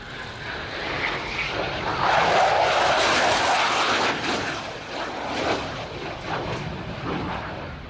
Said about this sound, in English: Final wing rocking pass then from the Spanish Air Force Eurofighter C-16 Typhoon.